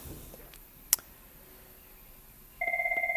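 A telephone starts ringing partway through, a steady electronic warble with a fast pulsing rhythm, after a single sharp click; it sounds moderately loud over a quiet room background during a math review lesson.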